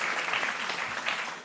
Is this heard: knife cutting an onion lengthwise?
no